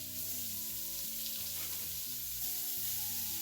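Beef pieces frying in a pot for old fashioned beef stew: a steady, continuous sizzle at an even level, with faint tonal background sound beneath it.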